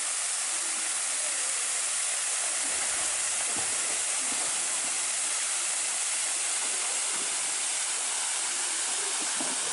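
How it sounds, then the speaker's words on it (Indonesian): Widuri waterfall in Grobogan, Central Java, roars as a dense, constant wash of falling water, loud and close, with no voices over it. "Air terjun Widuri masih alami"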